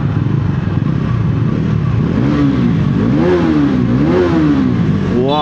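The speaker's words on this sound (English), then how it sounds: "and a wonderful exhaust note." Bajaj Pulsar 373cc single-cylinder motorcycle revving close by, a loud throbbing exhaust note that rises and falls in repeated swells over a steady idle rumble.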